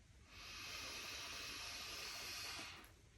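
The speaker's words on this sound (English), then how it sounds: "Taking a recovery breath in through the nose," A long, steady inhalation through the nose during a guided breathwork session, a soft airy hiss lasting a few seconds at low level with no talking.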